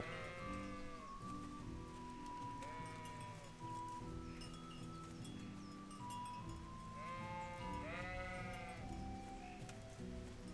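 Sheep bleating in the medieval video game Kingdom Come: Deliverance, several wavering bleats in bursts over a soft continuous hiss of ambient background sound.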